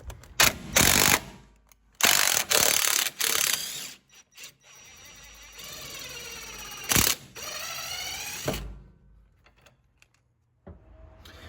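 Ratchet wrench working on a strut nut during a lowering spring install on a Fiat 124 Spider Abarth, close, loud bursts of rapid clicking broken by pauses and a few metallic knocks, with no talking.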